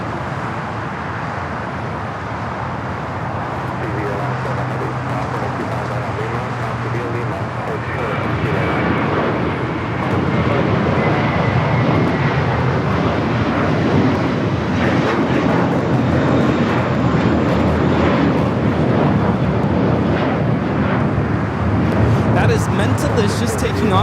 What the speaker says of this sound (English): Just taking off to JFK, flight 224. It's an A321.